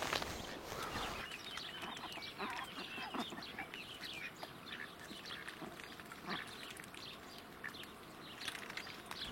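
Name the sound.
ducks quacking in a vegetable garden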